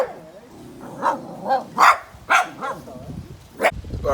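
Roadside dog on a motorbike ride through Trinidad's north coast hills barks repeatedly in a loose series of about five or six sharp yaps, close and fairly loud, with some faint voice and wind underneath.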